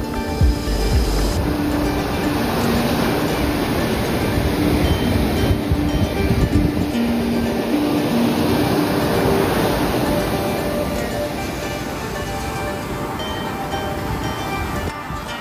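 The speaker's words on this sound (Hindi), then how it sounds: "लहरों की जो आवाज है वो महसूस कर सकते हो।" Ocean waves roll onto Calangute beach in Goa as a steady, loud, broadband wash of surf that continues without pause, with no voices.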